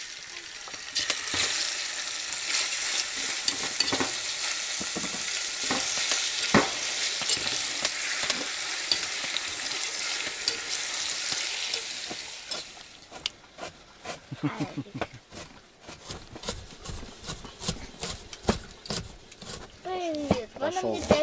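Chicken fries in a pan with noodles and sauce, a loud steady sizzle with scraping stirs that later thins into crackling and clinks while people talk over it.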